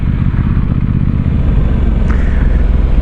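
An Aprilia Tuono 660 Factory motorcycle rides steadily along a town road, its engine a loud, continuous low drone with a brief rise near the end, heard close with no talk.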